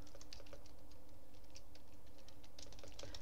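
Keys clicking on a computer keyboard while Python code is typed, a quiet, irregular run of soft taps over a low steady room hum.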